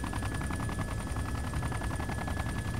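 Helicopter-mounted machine gun in the military video game ArmA 2, firing a steady, dense, continuous rapid burst that fills the whole stretch with even, rattling intensity over a constant engine roar.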